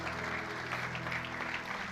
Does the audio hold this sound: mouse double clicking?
no